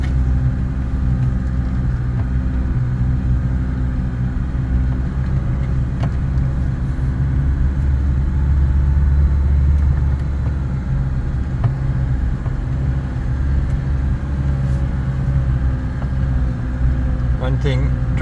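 A Fuso AAV truck drives away from a bush campsite with a steady, low, rumbling engine drone that runs close and constant for eighteen seconds, with voices talking over it.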